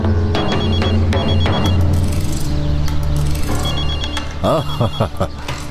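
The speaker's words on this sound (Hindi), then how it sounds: "तुम्हारे आशिक का फोन आया एंजी, तुम्हारे आशिक का" A telephone bell rings in repeated bursts over a dense bed of music and voices in a dubbed drama scene, the ringing loud and close.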